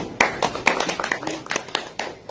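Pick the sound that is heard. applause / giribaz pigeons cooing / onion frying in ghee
applause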